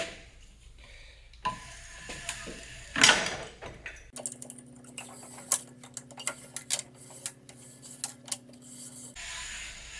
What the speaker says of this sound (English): Okay, so now I have the strut in the vise. I'm going to be able to loosen my top ring here.